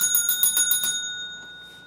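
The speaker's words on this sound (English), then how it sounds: "We will ring the bell for you." Bell rung at a retro trivia night, a rapid series of about six bright, ringing strikes followed by a long, clear tone that slowly fades.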